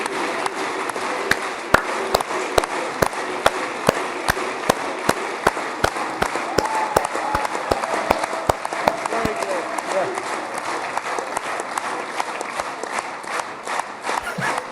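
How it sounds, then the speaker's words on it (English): A large crowd at a live event in Israel for a prime minister applauds at length, a dense roar of clapping and cheering mixed with sharp rhythmic claps and talk over it. "They're still clapping for Bibi."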